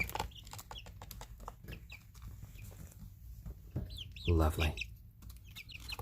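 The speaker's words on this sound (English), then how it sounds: "all of these guys are 3 different breeds of chicken" Chickens of three different breeds cluck and chirp softly close by, with scattered short calls and one louder squawking burst near the end, while a person speaks briefly.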